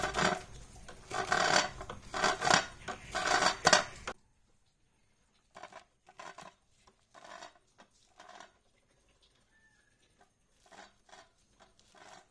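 A knife chops taikulya greens finely in a Goan village kitchen, with quick, crisp, steady strokes close up for about four seconds, then sparse, softer cuts with pauses between them.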